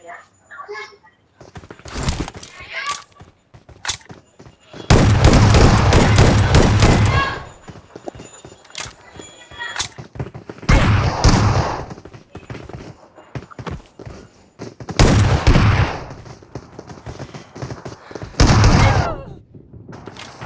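Gunfire in a competitive online shooter match, with loud bursts of rapid shots recurring in clusters several seconds apart, separated by quieter stretches of scattered single shots and game noise.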